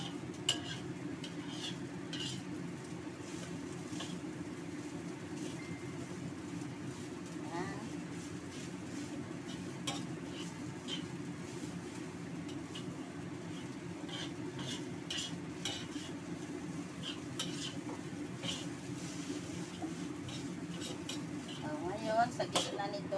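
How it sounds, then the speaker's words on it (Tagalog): Food being stirred and mixed in a frying pan, with steady scraping and a soft sizzle running throughout, joined near the end by faint clinks of utensils. "Halo-halo natin."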